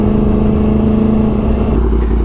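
A 2016 Yamaha R1 sportbike engine drones loud and close at a steady high pitch while riding, with a slight drop in revs near the end.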